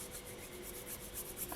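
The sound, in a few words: brushing excess pastels off polymer clay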